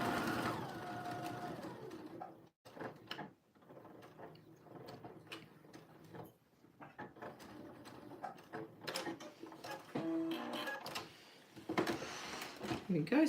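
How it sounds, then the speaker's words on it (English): Home sewing machine back stitching the bottom of a jeans pocket with regular thread: short whirring runs of rapid needle clatter broken by pauses, with a voice talking over much of it. "And I'm back stitching at the start and at the end."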